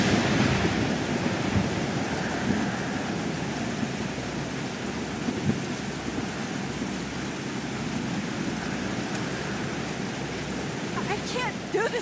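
A storm in Life is Strange: Double Exposure, with wind and crashing waves making a dense, continuous roar close by for twelve seconds, steady and loud with no break.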